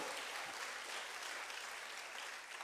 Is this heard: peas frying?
no